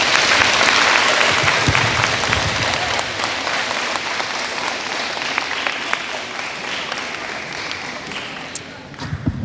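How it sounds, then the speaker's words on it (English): Audience applause at a fifth-grade DARE graduation ceremony, a loud, sustained wash of clapping from a crowd in a large room, gradually thinning toward the end, with some voices mixed in. "Let's give them a round of applause."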